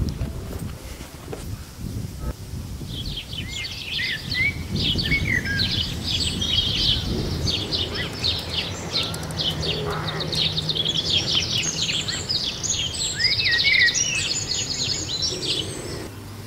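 Birdsong rings out around winding tracks in a Norfolk nature reserve near Wheatfen Broad in the Yare Valley, several birds chirping and trilling continuously over a low rumble of wind on the microphone.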